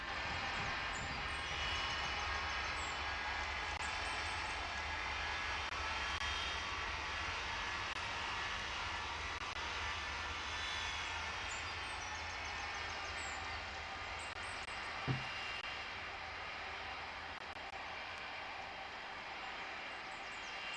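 A jet airliner takes off from runway 27 at Cincinnati airport in the Tower! Simulator 3 game, heard as a steady, loud broadband engine roar that holds for about twenty seconds with no voices over it.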